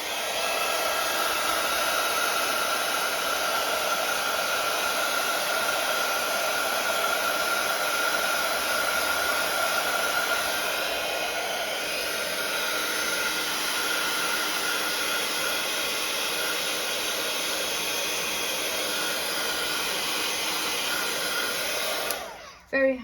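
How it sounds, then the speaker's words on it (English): A heat gun blows steadily to dry a watercolour card, a loud, continuous airy whir that holds for about twenty-two seconds before cutting off with a brief clatter at the end. "I'm going to use my heat gun like I told you earlier just to get all of this dry"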